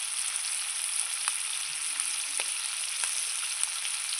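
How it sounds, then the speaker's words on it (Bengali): Shrimp frying in hot oil in a pan with salt and turmeric, a steady bright sizzle throughout with a few faint clicks of stirring, close and without talking. "মাছটাকে ভালো করে ভেজে নেব"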